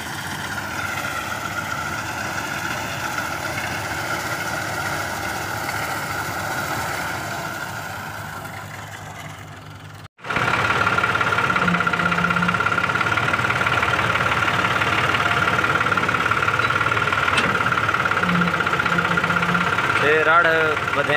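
Tractor engine running during a wheat harvest, a steady close mechanical drone that cuts out sharply midway and resumes slightly louder, with someone talking over it.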